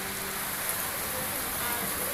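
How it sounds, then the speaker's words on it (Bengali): Rain that has fallen for nearly an hour on a rural homestead makes a soft, steady patter, faint and unbroken for the whole short stretch. "বৃষ্টি হইতেছে অনেকক্ষণ ধরে হইতেছে প্রায় 1 ঘন্টা ধরে বৃষ্টি হইতেছে"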